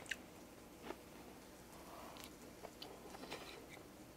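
Chewing on grilled pork, a lean cut of pork meat at a Korean mukbang, close and quiet, with soft wet squishes and small crunchy bites spread unevenly over a few seconds, no talking.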